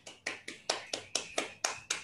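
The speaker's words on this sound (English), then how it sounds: "Maybe we unmute and" A single participant in an online lecture claps about eight times in a steady, even rhythm, crisp and fairly quiet, with no talk over it.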